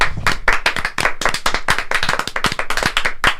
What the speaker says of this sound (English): Give him a hand, everybody.